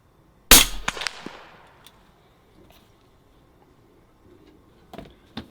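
One sharp, loud gunshot rings out close by on an outdoor range during red dot sight zeroing, then fades into a quiet tail, with a fainter report or impact near the end.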